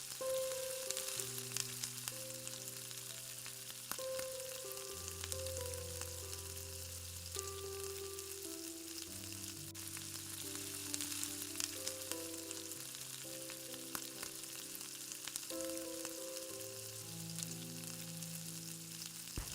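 An egg sandwich mixture fries in ghee in a pan, giving a soft, steady sizzle that sits quietly beneath louder background music with sustained melodic notes.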